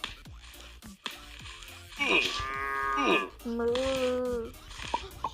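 Cows moo in the video game Multicraft, several drawn-out, fairly loud calls in a row layered with game noises. No speech accompanies them.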